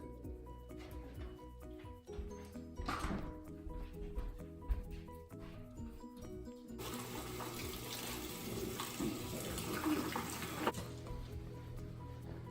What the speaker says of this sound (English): we're washing the jalapenos